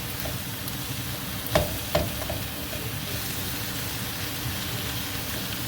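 Sausage browning in a frying pan for paella, a constant close sizzle and crackle with two sharp clinks of a utensil early on and no talking.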